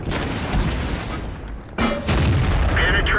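Tank cannon fire in World of Tanks aimed at a KV-1, heavy booms and rumbling battle noise filling the scene, with a sharp blast near the middle followed by continued loud rumble.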